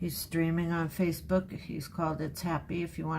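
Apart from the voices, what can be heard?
No everyday noises stand out.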